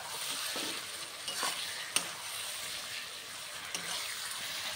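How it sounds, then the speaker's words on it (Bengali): Chicken pieces rubbed with turmeric and salt go into a wok and are stirred, giving a steady sizzle with a few scraping stirs and one sharp clink, close and alone without talk. "এরপর দিয়ে দিচ্ছি কড়াইতে, দিয়ে ভালো করে একটু নাড়িয়ে দেব।"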